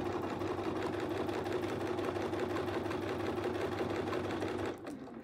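Continuous close whir of a sewing machine quilting with a Westalee ruler foot, steady throughout and easing off just before the end.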